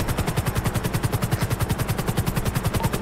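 A white helicopter in a roleplay video game, its rotor beating in a fast, steady, loud chop throughout, with no voices.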